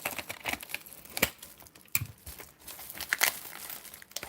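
Tape being pulled and torn off a mailed package of trading cards, with crinkly bursts of packaging and sharp ripping spikes at irregular intervals, close and moderately loud.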